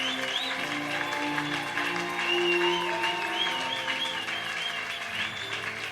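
Congregation in a church service applauding and cheering for the Lord, a sustained dense wash of clapping with voices mixed in, steady and loud throughout.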